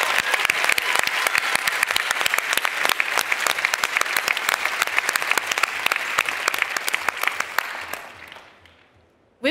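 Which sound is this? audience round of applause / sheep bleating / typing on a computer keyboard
audience round of applause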